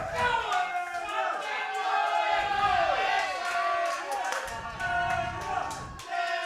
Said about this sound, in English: Just listen to the crowd, Barry.